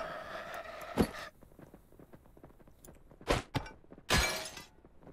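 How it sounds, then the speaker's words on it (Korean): Glass shattering in the zombie survival video game Nakwon: Last Paradise, several sharp crashes and breaks spaced over a few seconds, with soft footsteps between them. "유리 소리가 훨씬 크구나"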